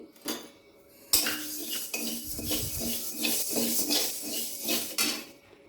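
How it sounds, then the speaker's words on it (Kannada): Fenugreek seeds are dry-roasted in a pan while being stirred, giving a continuous scraping and rattling of the utensil against metal, with sharp clinks and bursts of rustling seeds, close and fairly quiet, with no speech. "ಈಗ ಅದೇ ಬಾಣಲಿಗೆ ಮೆಂತೆ ಇದ್ದೀನಿ"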